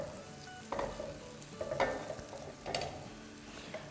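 Four tablespoons of onion cut for omelette, sautéing gently in a pan: a quiet, low sizzle with a few louder bursts and stirring scrapes spread across a few seconds, no voices.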